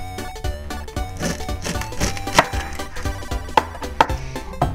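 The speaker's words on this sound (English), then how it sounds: "pop off the top of our garlic with our knife" A kitchen knife slices the top off a garlic bulb on a board, giving a series of close, crisp chopping knocks with a few sharper cuts, no voices.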